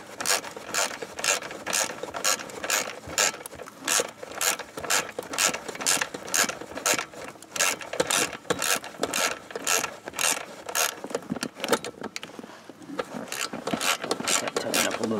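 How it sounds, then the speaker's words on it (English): A ratchet wrench tightens a bolt on a Ski-Doo Tundra snowmobile, with a steady run of rapid, close mechanical clicks that keeps going through the whole stretch, with no one talking. "tighten up a little more here."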